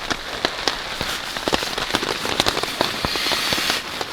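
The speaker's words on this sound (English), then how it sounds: "the sound of all that rain and wind outside is pretty awesome" Steady rain and wind drum on a hot tent pitched in snow and rain, a dense close patter with sharper individual drops cracking through, no voices.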